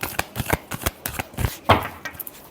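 Tarot cards being shuffled by hand, a quick run of close riffling flicks and soft slaps over a couple of seconds.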